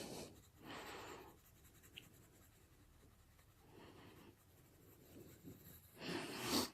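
Colored pencils scratch softly across a paper coloring page of clovers as the colors are blended over the whole sheet, in close, faint bursts of strokes separated by quiet pauses.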